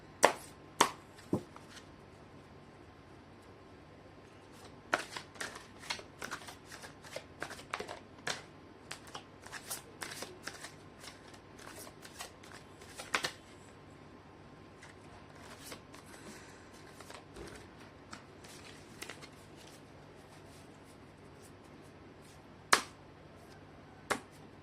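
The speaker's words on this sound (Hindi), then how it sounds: "मैं कर लेती हूँ कार्ड की शफलिंग।" Oracle cards are shuffled by hand in a quiet room, with sporadic crisp snaps and riffling flicks clustering in the middle and scattered sharp taps at the start and end, close and soft, without speech.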